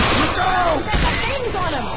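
Gunfire in the video game Left 4 Dead 2, a loud, dense, continuous clatter of shots packed close together, with faint tonal wails weaving through the noise.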